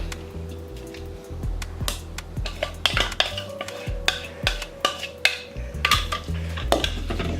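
Apple cake batter being mixed with melted butter in a bowl: repeated clinking and scraping of a utensil against the bowl in an uneven, fairly loud rhythm.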